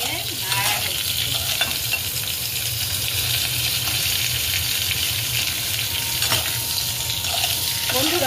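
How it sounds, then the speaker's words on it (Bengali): Fried cauliflower and potato are stirred in hot oil with cumin and bay leaf, a continuous loud sizzle with occasional scraping stirs and soft clinks against the pan. "কড়াইতে তেল আগেই গরম করতে দেওয়া ছিল, আর তার মধ্যে জিরে তেজপাতা ফোড়ন দিয়ে এবার ভেজে রাখা ফুলকপি আর ভেজে রাখা আলু দিয়ে নাড়া হচ্ছে"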